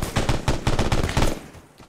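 Rapid automatic gunfire erupts in an ArmA3 combat game, a loud, dense string of shots that fades out near the end.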